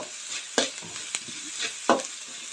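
Onions with salt stirred in a hot pan make a quiet, continuous sizzle, broken by three sharp scraping strokes of the spoon.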